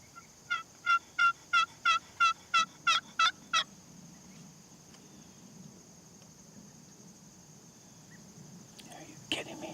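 A wild turkey flock gobbling, with a quick run of about ten loud, evenly spaced calls in the first few seconds, then quiet outdoor ambience with a faint insect hum and a soft click near the end.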